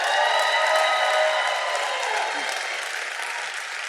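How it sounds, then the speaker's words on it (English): At a spoken-word event, an audience breaks into sustained applause and cheering, a dense, close wash of clapping that stays loud for several seconds and only slightly eases toward the end. "The crowd cheers."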